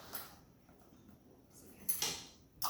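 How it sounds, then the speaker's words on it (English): Objects knocked over in a home kitchen while sampling a lemon ricotta cake: a few sharp clattering knocks and bumps, fairly faint and close, with quiet gaps between them. "So excited, I'm knocking things over."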